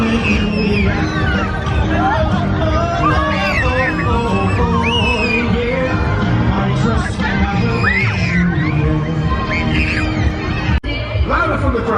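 A crowd at a Christmas light switch-on yells, whoops and cheers, a loud, dense wall of voices close by that runs nonstop with overlapping shouts.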